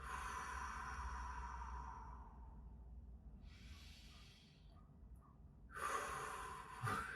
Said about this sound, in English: close your eyes and breathe 2-3 times deeply